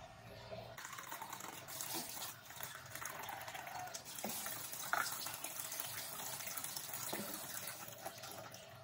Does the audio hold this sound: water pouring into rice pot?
yes